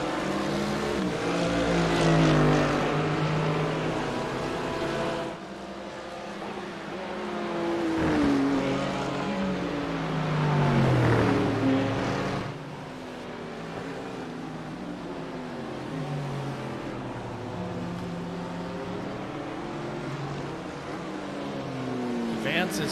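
GT3 race cars scream around the Hungaroring in a racing video game, engines rising and falling as they pass and shift, continuous and loud with a commentator talking over them.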